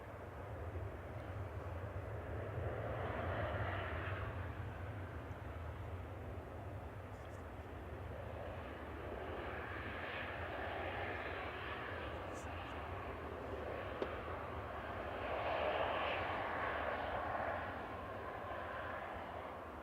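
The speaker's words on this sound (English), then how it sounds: "So the VS109 to Atlanta's just taxiing out for Virgin now." Virgin airliner taxiing out at Manchester Airport, a distant low engine rumble and hiss that swells and fades, with quiet voices nearby.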